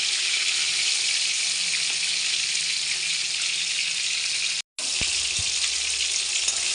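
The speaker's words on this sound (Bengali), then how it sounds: "হয়ে গেছে ভাজা, এবার তুলে নেবো" Steady, loud sizzling of Bombay duck (lote fish) frying in hot oil, continuous with a brief cut near the end and faint clinks afterward.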